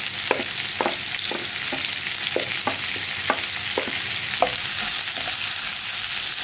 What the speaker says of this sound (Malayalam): തിന്നായിട്ട് കട്ട് ചെയ്തിട്ടുണ്ടെങ്കിൽ വേഗം തന്നെ നമുക്ക് വഴറ്റിയെടുക്കാം.